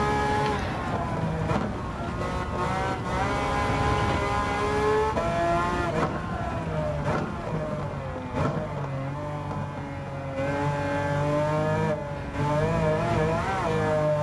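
A Ferrari race car engine on a circuit in Gran Turismo 7 screams continuously at high revs, the pitch sweeping up and down through shifts and corners, loud and close, with other cars faintly mixed in.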